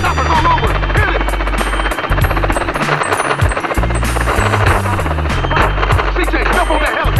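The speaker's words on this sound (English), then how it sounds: "CJ, that chopper's all over. Hit it." A police helicopter in the video game GTA San Andreas thumps loudly with a rapid, continuous rotor beat, mixed with game effects and brief bursts of other sounds.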